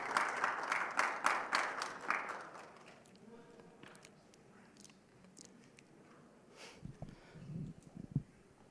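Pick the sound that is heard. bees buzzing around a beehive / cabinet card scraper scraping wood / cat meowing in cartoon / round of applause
round of applause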